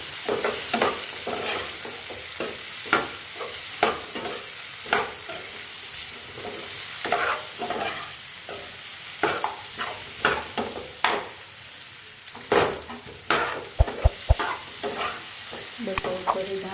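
A spoon scrapes and stirs a muthiya mixture in a pan with lemon juice added, giving repeated irregular scraping strokes over a faint sizzle, close and moderately quiet with no talking.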